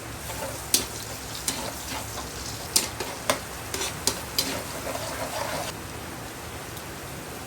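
Garlic sizzles and fries in a pan with a continuous crackling hiss, broken by occasional sharp pops and stirring clicks, close and fairly loud throughout.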